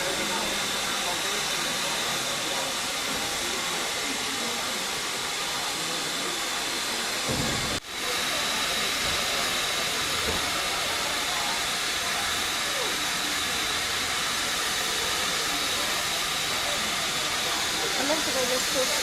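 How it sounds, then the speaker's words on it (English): A steam train on a railway turntable at a spring steam day gives off a continuous loud, broad hiss of steam that holds steady throughout, with one brief dip partway through. "This is the turntable. I'm going to watch this train turn around."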